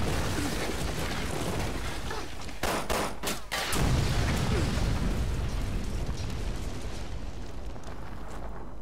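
A loud explosion in the video game Resident Evil Revelations 2 booms amid continuous rumbling noise, with a few sharp bursts just before it and a long roaring tail afterward.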